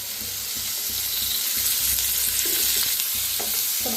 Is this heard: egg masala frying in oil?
yes